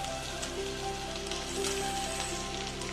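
Soaked sabudana (tapioca pearls) goes into a hot pan for khichdi, giving a steady, soft sizzling hiss that carries evenly throughout, fairly quiet and close, with no voices.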